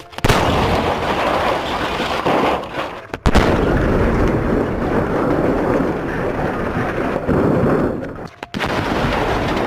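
A grenade goes off inside a vending machine in a game, with loud, booming blasts and rumbling debris and a couple of sharp, abrupt bursts over continuous heavy noise.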